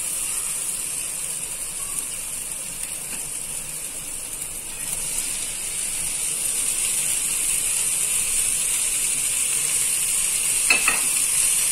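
Spices and boiled green peas are stirred in a pan for green peas chaat, a steady sizzling hiss with occasional scraping clicks from the spoon, alone without talk.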